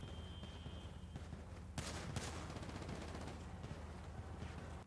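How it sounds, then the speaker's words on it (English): A newly bought gun fires in a video game, with bursts of rapid gunshots sounding at moderate distance against a steady ambient rumble. "there's a lot of gunfire going on out there, Johnny."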